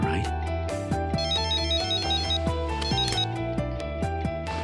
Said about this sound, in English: you know Deputy Director Kitamura's cell phone number.